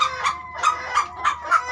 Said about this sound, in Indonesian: Ini babon-babon